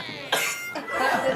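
Two sharp, close coughs from a man, the second followed by a rougher, drawn-out cough, loud and alone with no talk over them.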